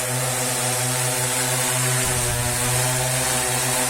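A SIYI D6 drone propulsion system carrying about 23 kg of takeoff weight in flight, with a loud, steady propeller drone and a strong tonal buzz that dips slightly, then holds.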